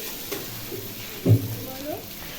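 Eggs cooking in a pan give a soft, close sizzle with a brief louder knock or scrape midway, quiet overall and without talk.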